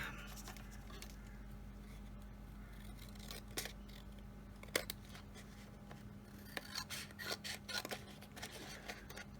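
Scissors snip excess paper napkin from a greeting card in quiet, close cuts, with a cluster of quick snips near the end.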